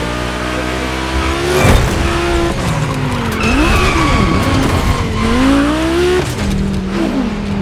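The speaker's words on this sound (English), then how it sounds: "You'll be driving the only electric Hoonigan car, which is probably the most powerful gymkhana car," Audi Hoonitron electric gymkhana car in a racing video game, a loud electric whine rising and falling as it accelerates, with repeated screeching tire skids throughout and no talk.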